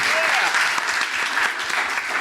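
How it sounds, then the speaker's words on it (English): Steady, dense audience applause fills a lecture hall after a question session at a talk on human-machine interfaces, loud and close, with a faint voice rising briefly in the crowd. "Can we have a round of applause for our first questioner?"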